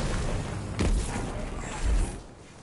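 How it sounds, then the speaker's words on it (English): Two heavy booms from a video game grenade detonation land roughly a second apart, each a short low thump rising above a constant bed of gunfire and game noise, with a voice speaking faintly underneath. "That's my grenade, by the way."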